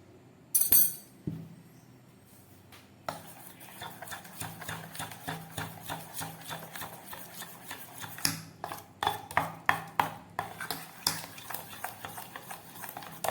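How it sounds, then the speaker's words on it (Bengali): Dosa batter being mixed by hand with salt and crushed black pepper, giving soft repeated squelching slaps and occasional clinks in an irregular rhythm, close and moderately quiet. "খুব ভালোভাবে মেখে নিলাম মাখাটা রেডি হয়ে গেছে"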